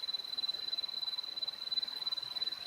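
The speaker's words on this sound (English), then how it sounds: "Sounds like there's crickets there." A dense chorus of crickets chirps in a steady, rapid pulsing drone, faint and continuous with no talk.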